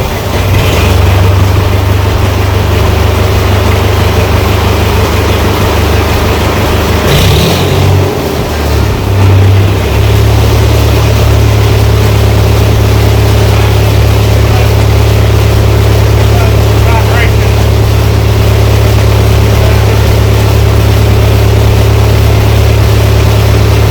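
An International Harvester 784 diesel tractor engine runs loudly and steadily with a deep rumbling drone, briefly faltering once before settling back into its constant chug.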